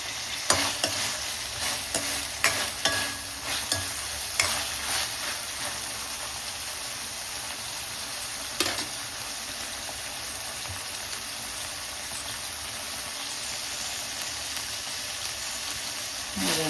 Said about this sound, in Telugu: ఈ రొయ్యలు మాత్రం మనం దోరగా వేయించుకుందాం